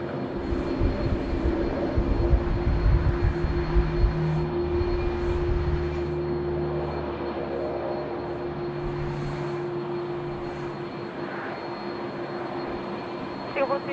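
A Jetstar A320 at Sydney Airport rumbles with a loud, sustained jet engine roar that swells early and then settles into a steady drone, heard from an air traffic control tower vantage point.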